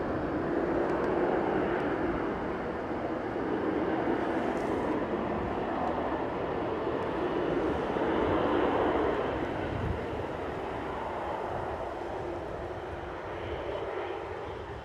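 A Ryanair airliner passes at Newcastle airport, a steady, distant broadband engine roar that swells and slowly fades across the whole stretch, with wind in the background.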